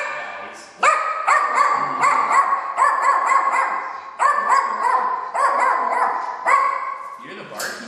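A shelter dog barks in quick repeated volleys of sharp, high yips, close and loud, with short pauses between the bursts.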